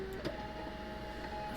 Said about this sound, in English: Okay, now I'm printing the label.